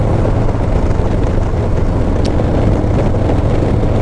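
A Heritage motorcycle cruising on a chilly December morning, with a loud, steady low engine rumble mixed with heavy wind buffeting that stays constant throughout.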